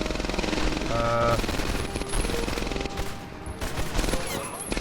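A gun in Medal of Honor: Airborne fires sustained rapid bursts, loud and close, with a steady rattling rhythm over background battle noise.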